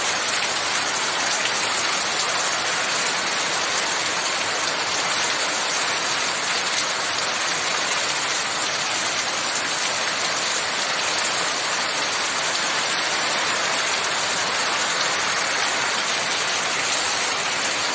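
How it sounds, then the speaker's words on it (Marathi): Dense, heavy retreating-monsoon rain pours down over farmland in a continuous loud roar, unchanging for the whole stretch, with no voices or other sounds. "पाऊस वाढला."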